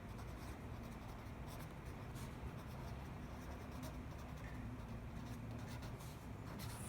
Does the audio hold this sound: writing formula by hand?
yes